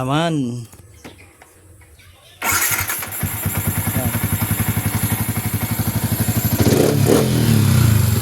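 A Yamaha Sniper 150 motorcycle with an injector problem cranks and starts after a quiet pause, then settles into a loud, rapid, steady idle close by with a rattly throb, and a bird calls briefly at the start.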